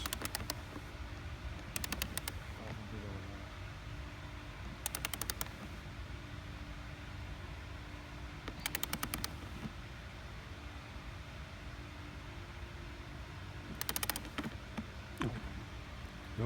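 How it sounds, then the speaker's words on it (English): A torque wrench ratchets back and forth while tightening a nut on a boom float, giving short clustered clicking bursts at intervals over a faint steady background hum. "Go back and forth until the torque wrench clicks."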